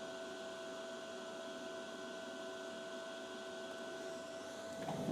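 An ARCCAPTAIN TIG205 Pro DC TIG welder holds a steady, faint electrical hum with a buzzing tonal whine for several seconds while welding. A louder burst of noise comes right at the end.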